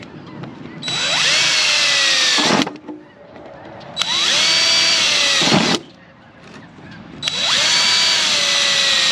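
A power drill whines loudly in three long bursts while drilling holes for a hay feeder, pitch bending as it bites into the material, with brief pauses between each hole.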